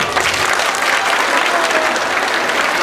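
Crowd applause for a contestant named Kendra at a village mojiganga festival contest in Tepalcingo, a dense, loud, continuous wash of clapping from many hands.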